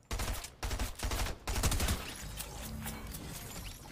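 Rapid bursts of gunfire in Fortnite, several close, loud volleys in the first second and a half, then quieter continuous firing and game sounds, with no speech.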